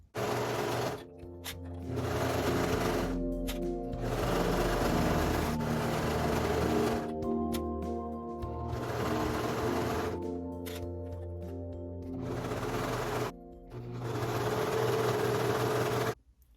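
A sewing machine stitches the sleeve and side seams of a T-shirt, running in three long steady whirring passes separated by brief pauses.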